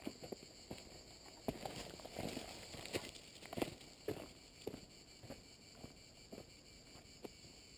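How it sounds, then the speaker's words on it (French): A continuous high-pitched cicada buzz hangs over the scene in Céret, France, with regular footsteps crunching along in the foreground. "On n'est pas bien là avec le bruit des cigales."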